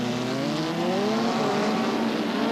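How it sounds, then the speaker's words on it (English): Rallycross cars race at Brands Hatch in dry conditions, with a steady, loud roar of engines, and the pitch shifts as the cars accelerate through the field. "Franz Wurtz is carving his way through the field"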